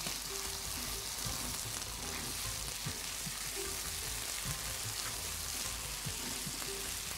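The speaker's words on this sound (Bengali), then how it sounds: "রান্না করা মাংসটাকে আমি একটু ভাজা ভাজা করব।" Steady, dense sizzling of chopped cooked meat frying in a pan, with occasional soft stirring clicks and no voices.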